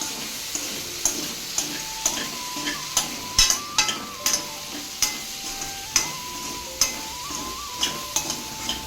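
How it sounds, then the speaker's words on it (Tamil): Potatoes fry with salt in a pan on a stove, a steady sizzle under repeated, rhythmic scrapes and taps of a spoon stirring against the pan. "கொஞ்சம் நேரம் அடுப்பில் வச்சு இப்படி வறுத்துக்கிட்டே இருந்தோம்னா வறுவலாயிரும்"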